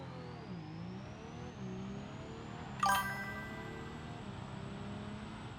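Automatic diesel vehicle engine in the BeamNG driving game, a steady mid-pitched drone that dips and recovers as it shifts, with a brief sharp metallic clatter near the middle; no one speaks.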